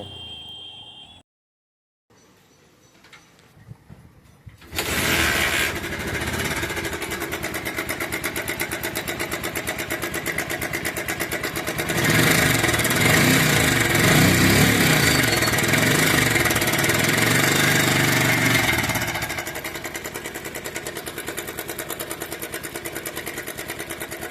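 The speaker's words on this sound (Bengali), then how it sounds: "এই বাইকটির সমস্যা হলো বাইকটির ইঞ্জিন থেকে প্রচুর ঝিরঝিরি শব্দ আসে" A Bajaj Pulsar UG4 motorcycle engine with a rattling, whirring fault starts after a quiet pause, idles close by, revs louder for several seconds, then drops back to a steady rattly idle.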